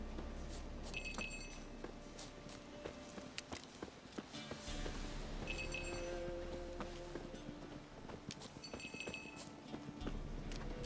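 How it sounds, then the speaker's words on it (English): A small bell rung repeatedly in The Witcher 3: Wild Hunt, three bright jingling bursts at regular intervals over footsteps and clip-clop sounds of the game world. "Do I really have to keep ringing this bell for you to follow?"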